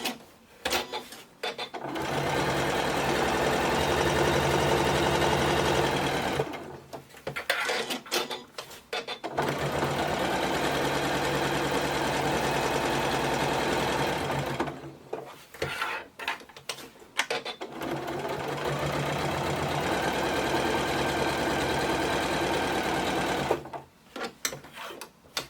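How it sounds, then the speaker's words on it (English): A sewing machine stitches fabric for a square pin cushion in three long, steady runs of rapid mechanical clatter. Each run lasts several seconds and is separated by short pauses. The sound is close and clear, with no talk over it. "put the needle down and start sewing"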